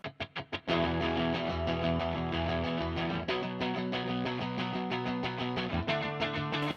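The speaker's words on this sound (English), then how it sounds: "I also layered the main rhythm guitar tone with a light crunch, cleanish guitar tone" Layered light-crunch, cleanish electric guitar tone from an amp modelling pack, playing a loud, continuous rhythm part with a few sharp muted hits at the start and choppy stops near the middle and end.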